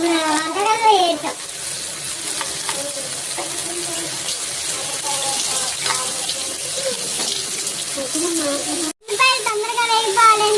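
Finely chopped onions fry in a pan for pani puri curry, giving a steady hissing sizzle that continues beneath a person talking almost throughout.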